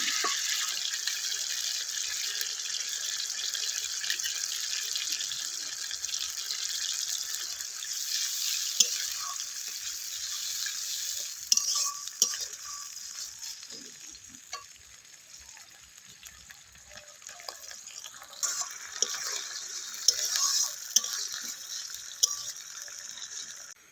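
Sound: tomato and onion paste frying in a pan for fish curry

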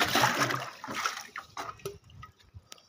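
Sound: filling a bucket with water from a tank

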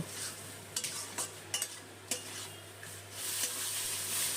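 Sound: cauliflower leaf paste being stir-fried dry in a pan

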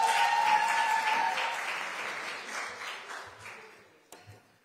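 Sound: audience applause for a speaker at a book launch event

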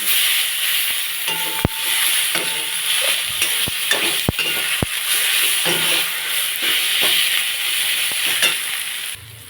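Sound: spices and ginger paste frying in a pan

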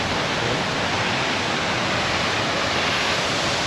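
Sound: Savatsada waterfall at Chiplun

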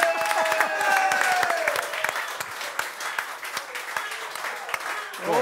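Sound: audience applause for head waiter Lusa Martis

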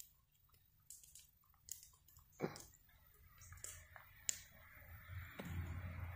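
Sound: dog chewing on a cedar log

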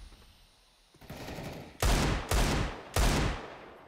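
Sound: gunfire in the video game CS:GO

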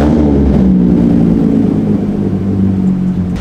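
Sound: Hyundai Genesis Coupe engine with straight-pipe exhaust

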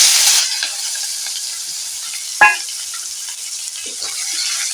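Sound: chopped onion frying in oil with cinnamon

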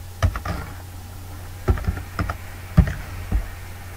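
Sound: typing on a computer keyboard

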